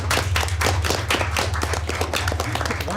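An audience at a school quiz bowl claps steadily, a dense patter of many hands applauding for a few seconds without pause.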